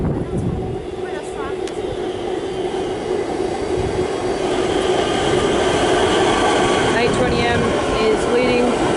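A Siemens electric train set pulls into Clayton station in Melbourne, a steady loud rumble of wheels and motors filling the scene with faint high whine throughout, and a voice talking over it.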